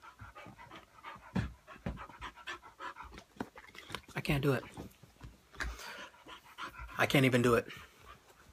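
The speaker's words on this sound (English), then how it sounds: "Puppy attack." A puppy pants in quick, breathy bursts, with a couple of louder whimpering, squeaky spells, all mixed under someone talking close by.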